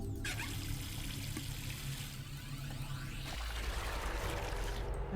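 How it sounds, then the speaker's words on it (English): Running water turned on in the Zero Time Dilemma game, a steady hissing rush with low rumble that shifts and deepens partway through, continuous and moderately loud with no voices. "And we turn on the water over here."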